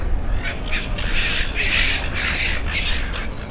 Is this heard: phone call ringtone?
no